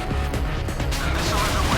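Missile launching from a warship in the naval combat game Modern Warships, a loud, dense whooshing roar with sharp impacts and mechanical clatter filling the whole short moment.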